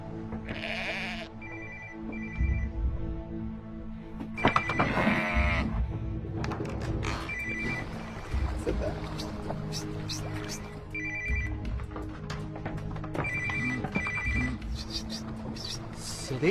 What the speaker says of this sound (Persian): صدای وینگ وینگ موبایل کمتونه ها؟